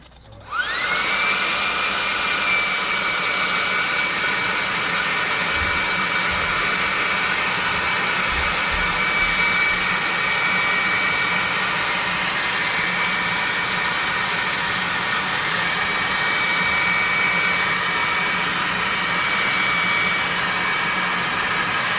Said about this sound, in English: we're going to hit him with the +2 hot air gun of burning